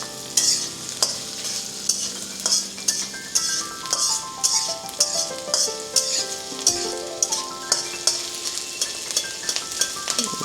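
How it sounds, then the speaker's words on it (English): Onion fries in a pan with a steady sizzle under repeated spatula scrapes and metallic clinks against the pan in an uneven rhythm, close up throughout. "we don't have to fry much onion"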